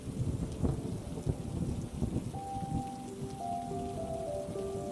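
Steady rain falling on a surface with rolling thunder rumbling through the opening seconds, close and even, with faint tonal chimes emerging later and no voices.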